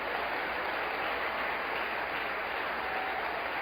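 A church congregation claps through a sermon, an even wash of applause heard at moderate distance and fairly soft, holding steady from start to finish.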